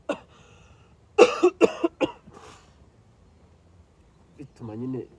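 A person coughs in a quick cluster of harsh, close bursts, three or four in a row, surrounded by quiet, with a brief bit of speech near the end.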